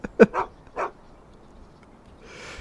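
A dog in the video game Shadow of Destiny gives a few short barks and yips in quick succession, fairly close, followed by quiet and a faint hiss of game ambience.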